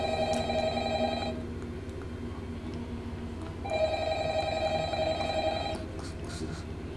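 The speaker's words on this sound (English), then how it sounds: "you're taking too long to answer the phone" An old-style telephone bell rings in two long bursts separated by a short gap, loud over a steady low ambient rumble in a Five Nights at Freddy's fan film.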